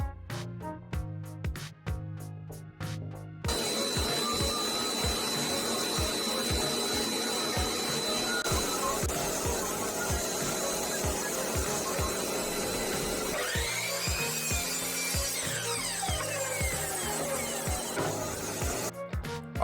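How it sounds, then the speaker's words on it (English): Miter saw cutting wood in a home shop, a loud sustained whine-and-rasp of the blade running through the cut, framed by short bursts of clicks and knocks before and after. "I'm gonna make the different lines, I'm gonna create them in order to go and make the cut using my miter saw"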